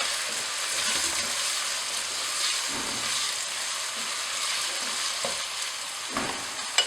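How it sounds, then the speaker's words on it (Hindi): Potato pieces sizzle and fry in a hot pan for vegetable masala Maggi, a steady close hiss of oil throughout with occasional stirring clatters near the end. "दो मिनट तक मैं इसे भूनूंगी।"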